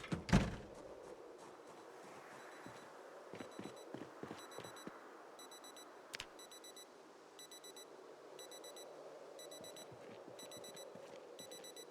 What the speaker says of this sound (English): hopefully that alarm doesn't draw over that group